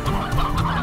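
Hen clucking in the Slime Rancher video game, a short run of soft low clucks layered over steady game background sound, with no talking.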